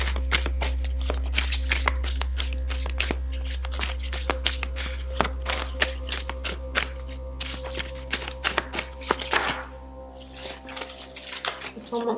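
A deck of tarot reading cards being shuffled by hand, giving rapid, close riffling flutters and crisp card snaps in quick bursts, with a low steady hum underneath.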